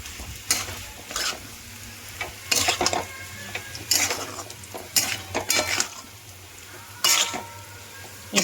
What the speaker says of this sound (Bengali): এবার ভালো করে সব একসঙ্গে মিশিয়ে নেবো